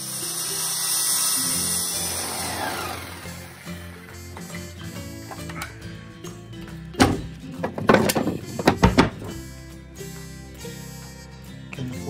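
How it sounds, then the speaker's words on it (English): Power drilling and jigsaw cutting of floor pieces inside a bus conversion, a high whining drill giving way to bursts of rough, rattling cutting noise near the end, loud and close. "I drill out holes in the corners so that you can navigate the jigsaw around there."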